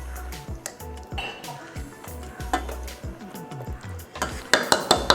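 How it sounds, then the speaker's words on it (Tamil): A ladle stirring urundai kuzhambu with hot water in a pot, close scraping and clinking strokes against the metal with sloshing, growing busier and louder toward the end, without speech. "கரண்டியில் வேணால் கூட கலந்து விட்டுக்கலாம்."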